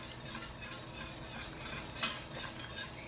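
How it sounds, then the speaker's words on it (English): Whisking in a pan on a stovetop over medium heat as a thick mixture cooks: soft continuous scraping and stirring with light metallic clinks, one sharper tap near the end, fairly quiet and close with no talking. "So I am going to make sure that I keep whisking"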